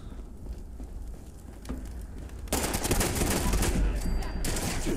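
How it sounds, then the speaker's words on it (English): Shotgun blasts from the video game Fallout 76 burst in after a quieter stretch, a dense, loud run of gunfire sounds filling the second half over steady game ambience. "We have this shotgun."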